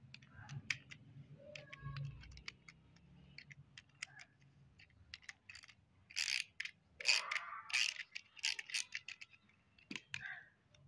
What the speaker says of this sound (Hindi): इसका बोल्ट हम लोगों ने खोल दिया।